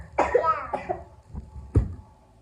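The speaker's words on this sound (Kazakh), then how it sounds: "кішкене жөтеліп қалған едік" A few short coughs, close and fairly loud, with brief pauses between them and no talking.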